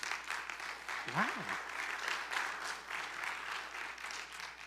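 Faint audience applause at a parenting talk, a soft continuous patter of clapping, with a brief exclaimed word from a voice partway through.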